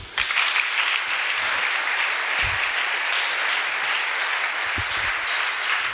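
A church congregation cheers and applauds loudly for Jesus during a Sunday service, a dense continuous wash of clapping and voices filling the room for several seconds with no speech on top.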